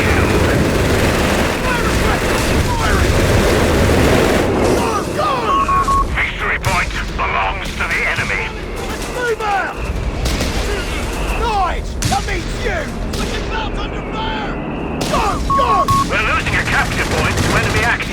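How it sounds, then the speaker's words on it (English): Heavy machine-gun bursts and scattered rifle shots crackle through a Company of Heroes 3 4v4 battle, dense and continuous with booms, while game voice lines speak over the din. "Heavy machine gun crew killed. Fire!"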